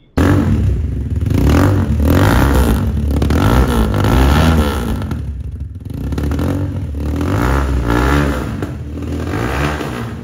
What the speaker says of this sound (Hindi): बाइक का साउंड भी चेक करवा दिया है